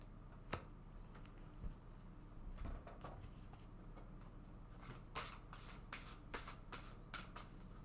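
A deck of oracle cards is shuffled in soft, rustling flicks and riffles, starting sparse with a few taps and then settling into a steadier run of quiet papery bursts close by.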